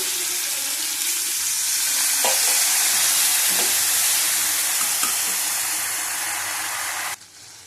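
Chana dal cooking with turmeric in a pan, a loud steady hiss and sizzle as water goes in, with a few stirring scrapes, cutting off abruptly near the end.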